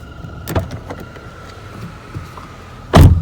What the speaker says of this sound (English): Door locks, unlocks.